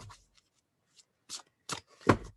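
Tarot cards being shuffled in a few short, crisp riffling bursts with pauses between them, close by and fairly quiet, with no talking.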